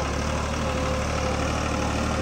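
A tractor engine idles in a steady, low, even throb close by, with no speech over it.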